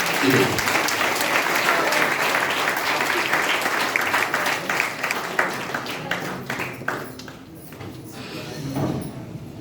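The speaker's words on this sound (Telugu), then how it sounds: "ఇంకొంచెం గట్టిగా కొడదాం." Audience applause at a Telugu Language Day felicitation ceremony for guests of honour: dense, steady clapping from a crowd that holds loud for several seconds, then thins into scattered claps and fades near the end.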